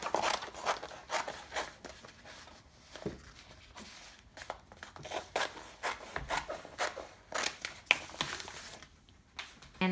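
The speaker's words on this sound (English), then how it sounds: "And a pair of scissors, and I'll cut this out." Scissors cut out a heart shape from contact paper, giving quiet, close, irregular snips and crinkling rustles of the sheet being turned.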